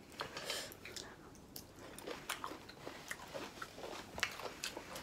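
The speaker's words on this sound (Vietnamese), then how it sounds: "Nhai ốc hương mà" Close crunchy chewing of sea snails (ốc hương) eaten at a meal with clams and grapes, a steady run of small wet bites and crunches over about five seconds with no talk.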